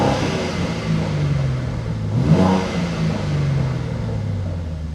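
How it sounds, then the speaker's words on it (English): A BMW M car with an equal-length factory exhaust revs up and settles, giving a smooth, bassy drone that swells near the middle, steady and close with no talking. "it's just got that nice, smooth, bassy tone to it, so it's not obtrusive"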